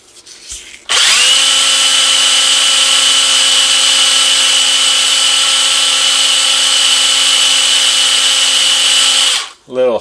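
Chime tube end from a 1950s NuTone K model two-note long tube chime spinning in a drill chuck while being sanded with sandpaper: a loud, steady whirring grind running continuously for about eight seconds, then stopping abruptly.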